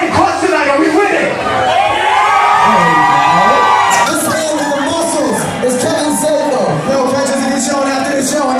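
Concert crowd at a Stratford show screams, whoops and cheers loudly and continuously, a dense roar of many voices with shouted calls rising over it.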